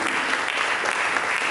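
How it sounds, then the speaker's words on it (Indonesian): A church congregation claps for Jesus Christ, dense continuous applause from many hands filling the room at steady loudness. "berikan tepuk tangan bagi Yesus Kristus"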